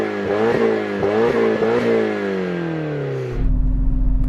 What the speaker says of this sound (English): now let's have a listen to the Nissan